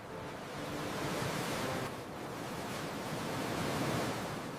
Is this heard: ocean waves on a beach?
yes